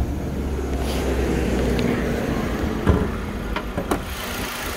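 2016 Kia Rio S engine idling under an open bonnet outdoors in the rain, a low steady rumble with a few faint knocks and clicks near the end, no talking.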